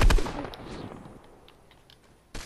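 Gunfire in the video game Fortnite, a burst of rapid close shots that fades into a decaying tail, then another sharp shot at the very end.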